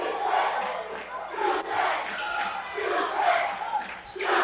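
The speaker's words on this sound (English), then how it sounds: "You can hear the Rogers fan and band cheering defense, chanting defense, wanting a stop" Fans and a pep band in a high school gym chant rhythmically for defense against the Rogers Rams at a basketball game, loud, pulsing crowd voices rising and falling in repeated bursts with a background murmur.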